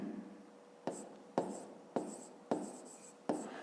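A pen taps and scratches on paper in a math exercise book, five crisp strokes at roughly half-second intervals, close and quiet, with no talking.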